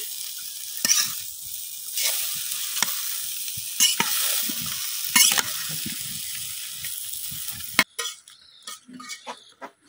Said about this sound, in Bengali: আমি কিন্তু লতির সাথে মশলাটা খুব ভালোভাবে মিশাই লইছি